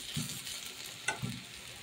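Onions frying in oil for a fish mash dish, a faint steady sizzle with a couple of soft stirring knocks and one sharp clink near the middle.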